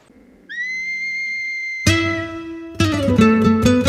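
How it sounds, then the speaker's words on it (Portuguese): A steady, sustained high whistle from a foreman calling herding dogs, held for over a second, followed by louder tonal blasts and a busy burst of sound near the end. "Basta o apito do capataz para os cães saírem em disparada atrás do rebanho"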